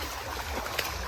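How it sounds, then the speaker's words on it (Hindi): A fast, clear stream rushes over slippery stones on a waterfall trek near Bhangarh Fort, a steady, close wash of water with a few gurgles. "पानी बहुत ही ज़्यादा क्लियर है, फ्लो बहुत तेज़ है"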